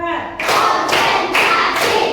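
A classroom of students performs a counted clap pattern, with a short voice at the start followed by three sharp, loud group claps spaced evenly about half a second apart.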